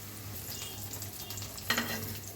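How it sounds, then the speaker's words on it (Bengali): Taro pieces fry quietly in oil in a pan, giving a faint, steady sizzle over a low hum, with a short sharper crackle or clink near the end. "আস্তে আস্তে করে কচুগুলো ভেজে নিব"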